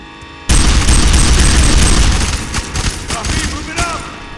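A multiplayer shooter video game erupts into a loud, sustained burst of rapid gunfire and booms, which starts abruptly and then continues with uneven volleys.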